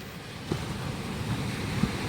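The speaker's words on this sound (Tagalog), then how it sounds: "kung naririnig niyo yung hampas ng alon" Sea waves wash onto the shore beside a beach resort, a soft continuous surf with wind over the microphone and two slightly louder surges, with no voices.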